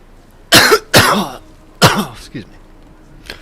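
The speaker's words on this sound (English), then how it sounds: "I apologize for all the coughing." A person coughs close to a microphone: three harsh, throaty coughs in quick succession, followed by a softer cough and a faint final one, with quiet in between.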